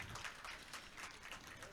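Audience at a college event claps together, a steady, fairly faint patter of many hands with some crowd murmur.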